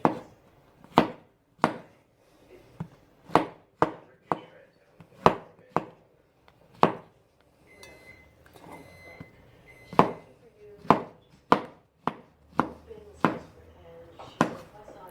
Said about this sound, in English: just chopping the mushrooms as you would